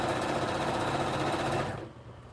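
A domestic sewing machine stitches a blanket in a steady, close mechanical whir, running continuously for most of the clip, then stopping abruptly and leaving quiet room tone.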